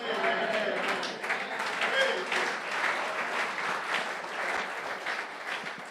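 Sustained audience applause fills the room at a steady, fairly loud level throughout, a dense wash of many hands clapping with no clear break, and faint voices mixed under it.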